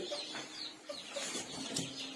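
Newly hatched chicken chicks inside an incubator make soft peeping calls, a few brief chirps scattered over a quiet hum, faint and close, with no one speaking.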